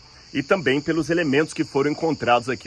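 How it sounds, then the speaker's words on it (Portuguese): A cicada sings a steady high-pitched drone in the background outdoors at the ancient city of Sardis, continuing under a man's close, clear speech. "Olha a cigarra cantando aí, fazendo coro."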